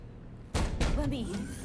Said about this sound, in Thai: เข้าประตูครับ